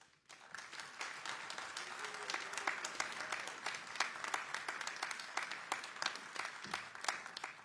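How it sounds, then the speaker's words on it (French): An indoor crowd at a political meeting in Clermont-Ferrand applauds steadily with dense, sustained clapping that holds for several seconds at moderate distance. "On peut se le dire et s'applaudir."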